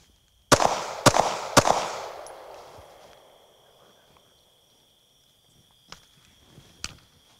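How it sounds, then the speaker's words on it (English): Three sharp gunshots in quick succession from a rifle with a red dot sight, fired at night under night vision, each loud crack trailing off in a long echo, followed by a few faint distant pops and quiet night ambience. "It's as easy as that when we're shooting under night vision"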